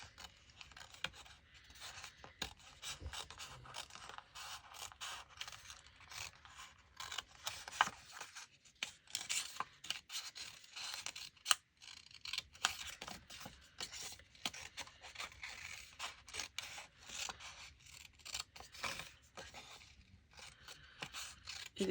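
Scissors snip and rasp through paper while a window page is cut for a junk journal, a quiet, close, irregular run of short cutting and scraping strokes with no talk.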